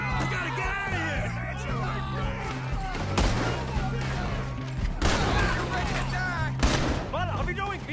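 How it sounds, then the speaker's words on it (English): Shootout gunfire in Red Dead Redemption II: several loud, sharp gunshot bursts scattered through a dense stretch of shouting voices and tense background music. "There he is! Shoot that man!"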